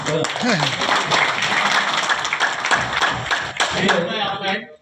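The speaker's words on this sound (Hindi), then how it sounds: "जोरदार ताली ज्ञानरी" An audience claps loudly at an office gathering, the dense applause running steadily for about five seconds with voices mixed in, then cutting off.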